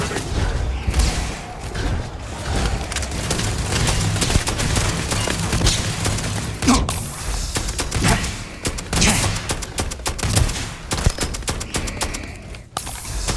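Sustained video game gunfire rattles in dense bursts, with heavy thuds and booms mixed in over more than ten seconds, loud and close with only brief gaps.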